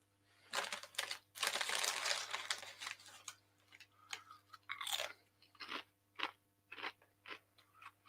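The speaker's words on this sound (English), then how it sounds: "Sorry, I'm eating crisps." Crisps are eaten close to the mic, with loud crunching bites followed by a run of sharp, irregular chewing crackles and brief pauses, heard alone without talk.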